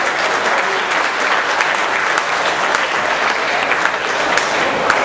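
Loud, sustained audience applause at the Gran Galà evening of the Sagra San Rocco festival in Loreggia, a dense, even wall of clapping from a large crowd with no break.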